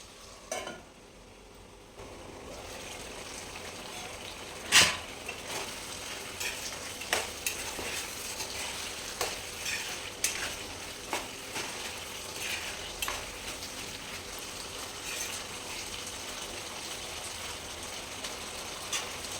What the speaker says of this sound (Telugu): ఈ మసాలా మొత్తం ఈ చికెన్కి ఇలా కట్టేటట్టు మొత్తం కలపాలండి.